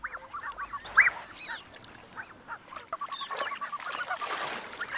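Blue-winged geese with young goslings honk and call in a wild African highland setting, several short nasal honks scattered through the clip, one loud and near, others softer and overlapping.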